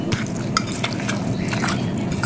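Sesame leaves being mashed and mixed by hand with a wet ground spice paste, giving soft, irregular squelches and sticky clicks at close range.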